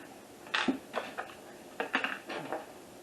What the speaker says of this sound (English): stir sour cream up